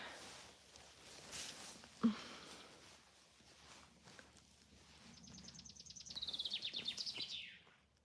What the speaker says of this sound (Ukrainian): будемо просто йти по лісі, насолоджуватися цією красою і слухати спів пташок